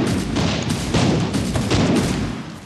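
Gunfire in the Van Helsing video game: a dense, rapid fusillade of close, loud shots, continuous and unbroken for a few seconds.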